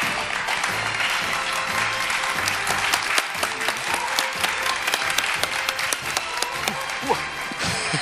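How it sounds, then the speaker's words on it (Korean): An award ceremony audience at the ADT Caps Player 2013 baseball defensive awards claps loudly and continuously for about eight seconds, a dense, even roar of hands filling the room. "여러분 다시 한번 뜨거운 박수 부탁드립니다."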